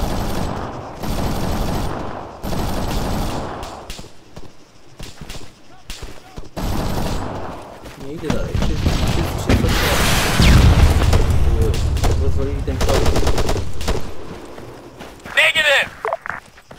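Machine-gun fire in the ArmA 3 military shooter crackles in bursts and rolling volleys with heavy booms, loud and close, while soldiers shout over the battle.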